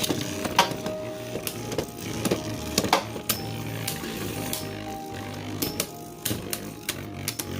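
Beyblade Burst Guilty spins in a plastic stadium after a launch, giving a continuous scraping whir broken by sharp clacks and knocks as the top strikes the stadium walls.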